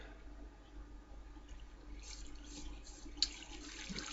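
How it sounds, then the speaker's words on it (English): Flowing water in a Minecraft farm, a faint, steady trickling and splashing that swells slightly midway and stays quiet throughout. "So now the water's coming, and then the water should stop."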